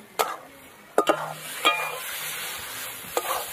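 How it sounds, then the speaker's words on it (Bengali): Spice masala stir-fried in a pan for an egg and new-potato curry: a few sharp scraping stirs stand out over a faint, steady sizzle, close and alone with no talk. "ভালো করে মশলাটা একটু কষিয়ে নিতে হবে যাতে সুন্দর হয়"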